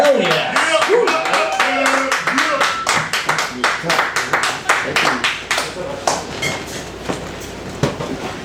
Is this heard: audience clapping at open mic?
yes